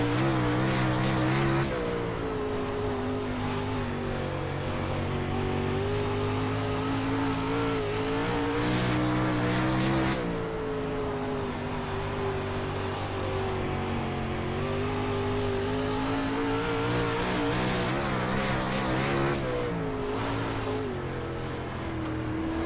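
A 360 sprint car engine roars in the iRacing game at Port Royal Speedway, loud and continuous, rising and falling with throttle and briefly cutting out around corners across about twenty seconds.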